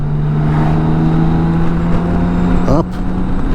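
A BMW K1600 GTL motorcycle cruises along a road, its engine a steady, loud droning hum blended with rushing wind, with a brief pitch shift near the end before the drone settles again.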